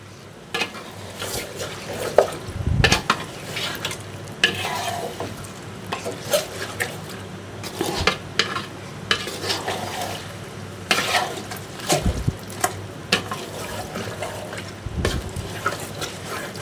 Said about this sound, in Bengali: এখন নাড়াচাড়া সব কিছু হয়ে গেল